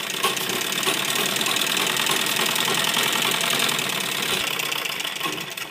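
Electric sewing machine stitching the fabric of a baby girl's A-line frock, running loud and continuous at a steady, dense whirring pace.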